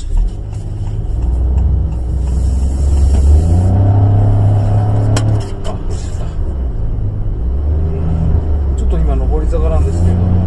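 A Honda N-BOX Custom turbo kei car accelerates uphill, its engine droning steadily and rising in pitch under a voice talking from inside the cabin.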